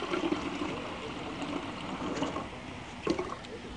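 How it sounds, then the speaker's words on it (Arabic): Water is poured into soaked hibiscus concentrate, making a steady, soft trickling and splashing stream with a couple of brief clinks near the end. "هنضيف له بقى طبعا مية"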